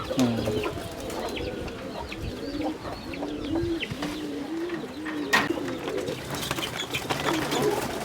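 Pigeons in a pet animal shop coo repeatedly in soft, rolling bursts nearby, with a few other bird calls and occasional voices in the background.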